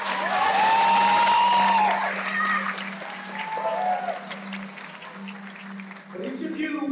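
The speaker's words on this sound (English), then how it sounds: "I want you to give them a loud yell and clap your hands" A graduation audience yells, whoops and cheers loudly, with clapping mixed in, peaking at the start and then fading into scattered shouts.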